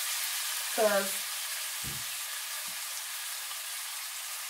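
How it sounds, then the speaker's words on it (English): Steak tossed into a frying pan, heard as a steady broadband sizzle throughout, with someone speaking briefly over it. "I'm going to go ahead and throw the meat in."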